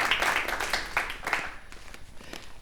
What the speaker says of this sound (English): Give her a big round of applause, y'all.